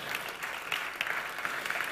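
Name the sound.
audience applause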